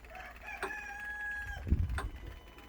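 A rooster crows once, close and clear, a long drawn-out call followed by a couple of low thumps.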